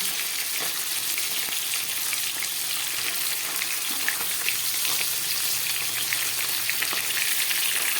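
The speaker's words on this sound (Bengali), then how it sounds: "মাছ ভাজা হয়ে গেছে, আমি তুলে ফেলছি।" Whole fish and fish heads fry in hot oil, a loud, dense and continuous sizzle that stays even from start to finish with no talking.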